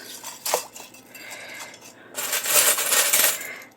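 Paper clips and assorted small metal items tossed into a container, a loud rattling clatter of metal pieces landing after an earlier single clink, close and alone without talk.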